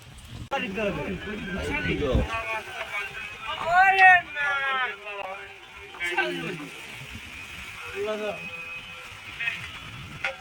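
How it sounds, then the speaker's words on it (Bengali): A fishing boat moving with the current on rough sea where nets have been cast, a continuous wash of water and wind noise while people talk loudly over it. "আর আমাদের নৌকা এখন চলছে স্রোতের দিকে"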